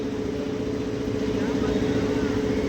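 A car pulling in at a village Dahi Handi festival, its engine a steady mid-pitched hum and drone that holds throughout under the sounds of people talking.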